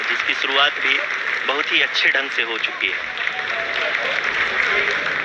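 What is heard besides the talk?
applause in mission control during Chandrayaan-3 landing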